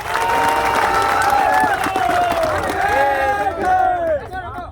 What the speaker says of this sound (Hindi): सबका आपका जोरदार तालियों के साथ स्वागत करता हूँ